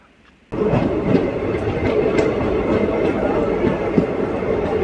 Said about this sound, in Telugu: మన ట్రైన్ అయితే ప్లాట్ఫామ్ నెంబర్ 2 నుండి అయితే డిపార్ట్ అయిపోతుంది ఈ గుమ్మడిపుండిలో